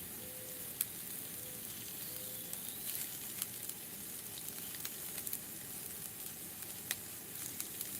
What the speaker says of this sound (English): We're gonna put our onion in.